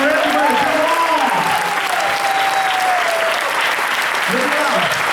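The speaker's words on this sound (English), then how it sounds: "Let's clap for everybody in the hall" Loud sustained applause fills a hall during a Jain spiritual session, the audience clapping for one another while a voice speaks over the clapping.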